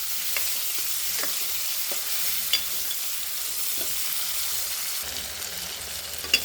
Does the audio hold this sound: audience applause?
no